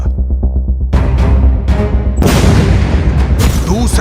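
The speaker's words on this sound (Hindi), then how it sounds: "दूसरा धमाका," Explosions in Gaza: a low hum gives way to several sharp, heavy blasts in quick succession, each followed by a rolling, crackling roar, loud and fairly close.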